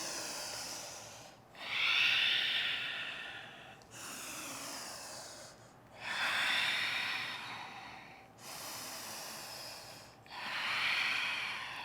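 Deep, audible breaths during a strong, sweaty vinyasa yoga class, three slow cycles of long airy inhales and exhales, close and steady, each rushing breath separated by a short pause.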